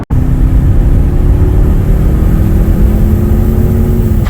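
A Jaguar F-Type 2.0 accelerates hard along a motorway, its engine droning loud and steady from close inside the car, with the pitch climbing slowly.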